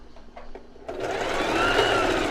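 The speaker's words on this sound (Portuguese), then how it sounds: "Com um retrocesso para finalizar." A domestic sewing machine backstitches at the end of a seam on fabric panties, starting with a few light ticks and then running into a sustained, close mechanical whirr.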